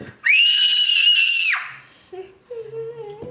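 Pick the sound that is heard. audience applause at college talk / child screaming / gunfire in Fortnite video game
child screaming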